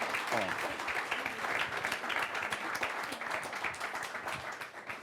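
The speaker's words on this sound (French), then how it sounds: "je vais vous demander de faire un tonnerre d'applaudissements" Sustained applause fills a business event hall, a dense crowd clapping evenly and loudly for several seconds.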